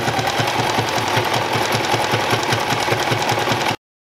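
Home sewing machine running a zigzag stitch along the edge of a cloth pad, a steady fast mechanical chatter with a regular pulsing beat, close and loud, continuous for nearly four seconds before cutting off abruptly.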